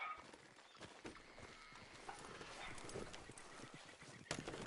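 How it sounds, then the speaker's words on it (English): A horse's hooves clip-clop at a steady walking rhythm in a video game, faint and mid-distance under outdoor ambience, with one sharper knock near the end. "How's that horse treating you?"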